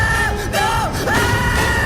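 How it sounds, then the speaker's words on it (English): A long, wavering scream from Icarus as he falls in the video game God of War, loud and continuous with sliding pitch bends throughout, heard alone. "especially because of the scream Icarus lets out"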